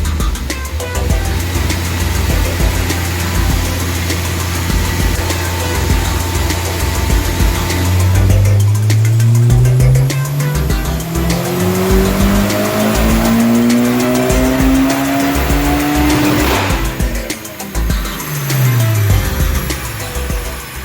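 A Honda S2000 fitted with a Greddy turbo kit roars through a long, loud dyno pull, its engine note climbing steadily in pitch, then dropping off and rising again as it revs on the rollers.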